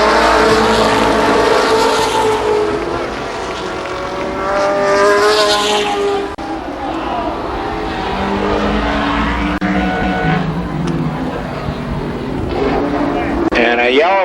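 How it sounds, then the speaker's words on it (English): Late model race cars roar around the Columbus Motor Speedway oval during a heat race, a loud continuous engine drone with passing swells, while an announcer talks over it. "Two late model veterans slug it out for the lead in the first heat race for the late models."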